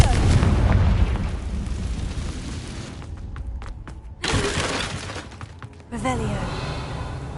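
Confringo fire spell explosions in Hogwarts Legacy, with loud broadband bursts at several moments, dense sustained roaring crackle between them, and a voice calling out over the blasts.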